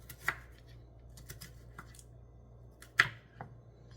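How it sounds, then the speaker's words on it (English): Knife chopping a slice of salad vegetable into quarters on a cutting board, two sharp distinct cuts with a few softer taps between, close and quiet over a low steady hum. "Now I'm going to cut that in half. Or actually more than half, quarters."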